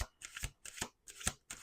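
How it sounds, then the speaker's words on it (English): Tarot cards are shuffled in quick riffling bursts, about five short crisp flutters with brief pauses between, close and clear. "1 more shuffle. Last shuffle."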